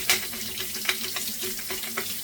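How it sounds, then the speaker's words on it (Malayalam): Water runs steadily from an open tap while a bottle is washed to strip off its sticker, a constant close hiss with faint splashing and no talk. "വെള്ളം ഇങ്ങനെ തുറന്നു വിട്ടിങ്ങനെ"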